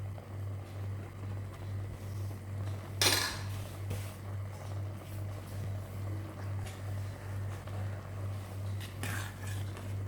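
A spoon scrapes strained rice into a biryani pot for the next layer, two brief metallic clatters over a steady, pulsing hum.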